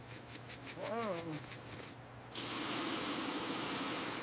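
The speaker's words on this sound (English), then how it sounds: "first we'll apply some foaming cleaner to break down the grime on the inner panel here" Foaming cleaner hisses in short bursts and then one longer steady spray onto the inner panel of a 1937 Fiat 500 Topolino under restoration. The sound is close and fairly loud, and a voice is heard briefly early on.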